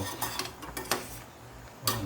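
Soft scraping and occasional clinks of a utensil against a pot of boiling pork adobo, quiet and intermittent, like food being stirred close by.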